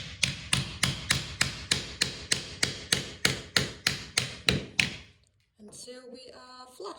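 A hammer taps a cleat into a pegboard wall in about fourteen evenly spaced, sharp knocks over five seconds. The blows are close and loud, then stop, followed by a brief quiet gap and some faint clattering.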